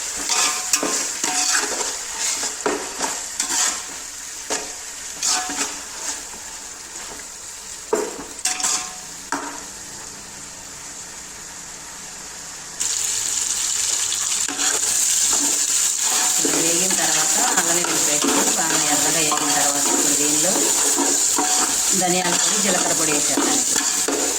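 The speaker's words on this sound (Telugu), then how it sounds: "అల్లం వెల్లుల్లి పేస్ట్ బాగా కలర్ వచ్చిన దాకా పచ్చివాసన పోయిన దాకా వేసుకోవాలి" Ginger garlic paste fries in a pan, starting with scattered stirring clatters, then settling into a steady, loud sizzle that fills the second half at close range.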